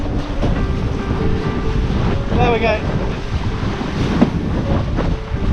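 Strong wind buffeting the microphone over rushing ocean waves and water slapping a windsurf board crossing the English Channel, loud and continuous, with someone briefly speaking over it.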